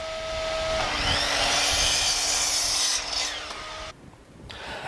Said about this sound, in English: Now, I'm using my shop vac with a dust collection system on it and a chop saw.